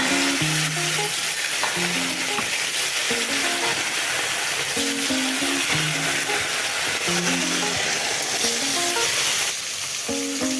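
Fish frying in a pan for a mixed-fish curry, with a steady, close oily sizzle running the full length while background music plays over it.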